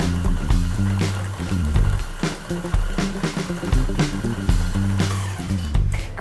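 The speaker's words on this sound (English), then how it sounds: "So that is going straight onto the mixer with our paddle attachment, and we're going to beat that for just a couple of seconds" A stand mixer with a paddle attachment beats cold diced butter for red velvet cookie dough, giving a continuous loud churning, thumping rumble close by, with no talking.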